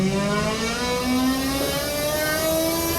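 A GA VSD+ air compressor starts up and ramps, a steady mechanical whir with rising tones, continuous and fairly loud throughout with no talk.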